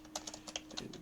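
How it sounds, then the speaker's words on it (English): Keys clatter on a computer keyboard in a short burst of about eight quick, uneven taps, close and fairly quiet, with a faint steady hum underneath and no one talking. "I want to be able to type things in my own chat."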